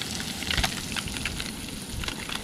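A big, thick piece of fish frying in butter over a campfire on a deserted island sizzles and crackles steadily and close, with scattered sharper pops throughout.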